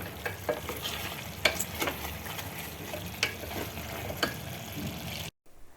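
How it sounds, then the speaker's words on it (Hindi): Chicken leg pieces sizzle and fry in a pan while a utensil stirs them, giving a constant crackling hiss broken by several sharp scraping clinks, close up, before a sudden brief cutoff. "अब ये पानी सूखे तक अच्छा भूनूंगी मैं,"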